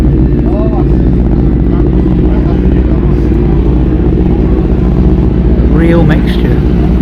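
Motorcycles, classic and modern, idle and rumble steadily at an outdoor bike night at Fort Paull, loud and close, while people talk over the engine noise.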